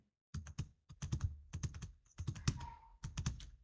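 Rapid keystrokes on a computer keyboard while entering a range name into an Excel formula bar: close, crisp clusters of clicks in uneven bursts with short pauses between words and no talking.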